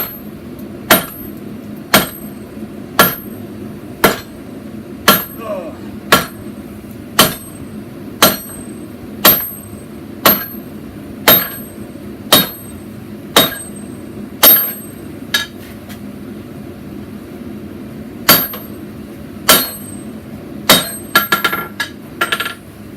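Steady metallic hammer blows ring out one after another as hot steel is hand-hammered for a sword, at a regular pace, bright and close, with a few quicker strikes near the end.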